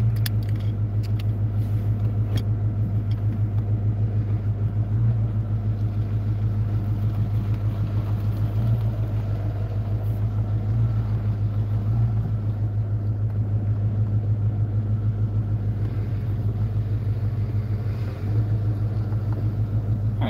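A car cruising on the road gives off a loud, constant low engine drone and road rumble at a steady pace throughout, with faint rattles and no speech.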